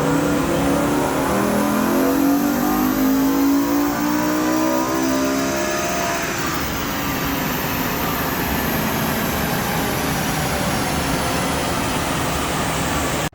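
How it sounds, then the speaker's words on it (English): A modified-intake BMW M5 revs hard on a dyno, a loud sustained engine note climbing and sweeping upward through the first half, then holding a dense roaring drone to the end. "the Beamer's back on the dyno with the intake"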